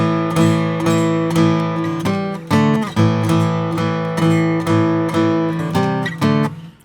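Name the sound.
guitar power chords played without muted rests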